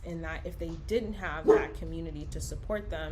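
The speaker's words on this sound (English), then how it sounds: "sorry, that's my dog." A pet dog gives short whimpering yips and barks in a home, partly buried under a person talking steadily close to the microphone.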